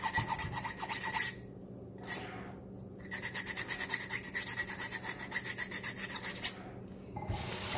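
Close, rhythmic rasping of sandpaper scraping against a glass bottle in repeated strokes, pausing twice before resuming.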